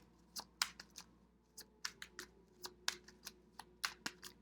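Spirit oracle cards are shuffled by hand close to the listener, giving a string of quick, soft, papery flicks and taps at uneven intervals in a quiet room.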